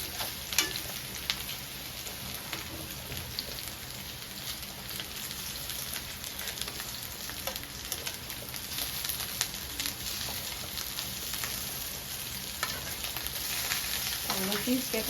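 Meatballs fry and brown in a pan, a steady, dense sizzle with crackling pops running throughout, close by and continuous.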